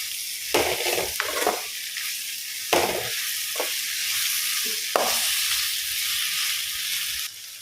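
Masala sizzling and frying steadily in a pan, with a few sharp scrapes and stirring bursts over the continuous hiss, close and fairly loud, no voices.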